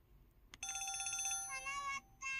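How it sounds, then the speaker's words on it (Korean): An IM-S330K mobile phone plays its incoming-call ringtone, a short, bright electronic melody of bell-like tones in quick phrases, clear and close with no talk. "전화 왔다."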